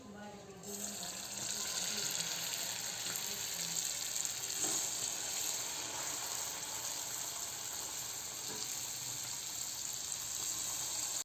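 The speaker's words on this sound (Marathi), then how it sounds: "इकडे बाकीचे मोदक असे आपण तळून घेत आहोत" Wheat-flour modak dumplings deep-frying in hot oil in a wok give a steady, bright hiss and sizzle that runs continuously and fairly evenly, with faint clinks now and then.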